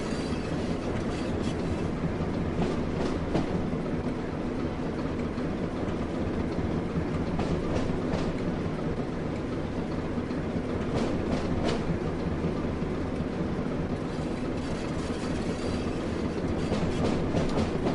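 A Class 08 shunter locomotive in Tees Valley livery, simulated in Train Sim World 3, rumbles steadily and low throughout, with repeated rail clicks and faint clatter layered over the continuous drone and no talking.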